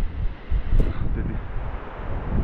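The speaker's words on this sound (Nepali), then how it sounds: "हावाले पनि अनि त्यो झरी पर्दा फुसफुस फुसफुस झरिरहेको छ यो" Steady, gusty wind rushes and buffets the microphone throughout on a mountain trek between Ghunsa and Khambachen on the Kanchenjunga Base Camp route, with a light drizzle falling.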